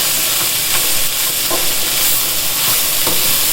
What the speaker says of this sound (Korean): 버섯 넣고 골고루 섞어가며 1분 정도 볶을 거예요